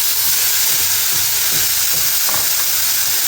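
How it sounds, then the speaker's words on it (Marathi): Brinjal pieces go into a pan of potatoes frying for a vang-batata bhaji, giving a loud hissing sizzle with several soft thuds and clatters as the pieces land, no voices. "आता याच्यामध्ये वांग्याच्या फोडी टाकायच्या"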